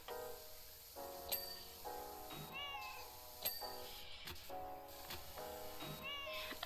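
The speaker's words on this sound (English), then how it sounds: "I'm glad it's not an unhappy kitty noise." Repeated cat meows in PowerWash Simulator 2, several short rising-and-falling mews spaced over a few seconds over a steady low background hum, moderately close and clear.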